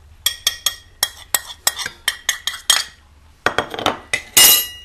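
A spoon clinks repeatedly against a metal bowl while potato filling for kulcha is mixed with spices and kasuri methi, a quick, steady series of sharp close taps, a short pause, then more scraping clinks.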